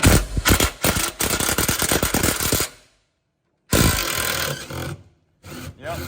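A wrench loosens a 13 mm bolt on an F-350 diesel truck, with rapid ratcheting clicks and grinding bursts, close and loud, broken by a brief silence before ratcheting resumes.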